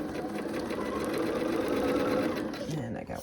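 A sewing machine stitching pieces of a blue and gold Hunter Star quilt runs in a steady, continuous mechanical whir that slows at the end, with someone talking over it.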